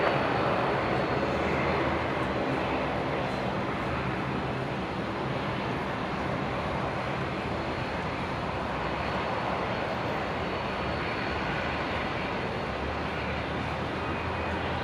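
A Jetstar jet airliner lines up on the runway at Brisbane airport, its engines giving a steady, fairly loud broadband rumble and hiss heard from a distance, with no talk.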